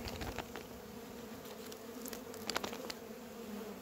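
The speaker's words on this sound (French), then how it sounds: "les abeilles qui seront enfermées dans le nourrisseur pourront s'échapper" Bees buzz steadily at a hive feeder filled with candy, a close continuous drone with a few louder passes near the end.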